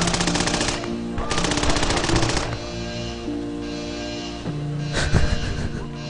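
Soldiers fire guns in the Evil Genius game: loud bursts of rapid automatic gunfire rattle in clusters, with brief pauses and sharper single shots near the end.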